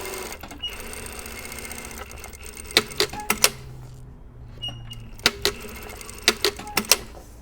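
A sewing machine stitching a fabric layer over the boning of a panel bustier, running in a steady whir broken by several sharp mechanical clacks and pauses, close and clear.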